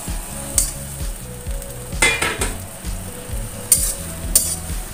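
Chilies stir-fried in a pan with okra, a close steady sizzle with a few stirring scrapes and light clinks of a utensil against the pan.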